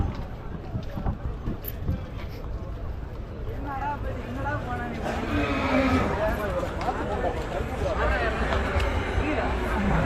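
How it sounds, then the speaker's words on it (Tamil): Horses running in a race at a temple chariot festival in Anthiyur, with hooves and occasional whinnies under a dense crowd babble and nearby talking that swells throughout. "இதெல்லாம் ஃபுல்லாக குதிரை தான் இருக்குது"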